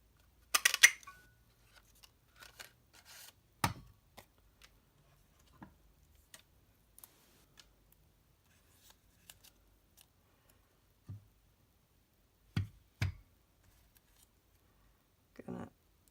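Scissors snipping a scrap of white cardstock: sparse, sharp close cuts spaced irregularly, with quiet pauses in between and a couple of louder snips, in an otherwise quiet room.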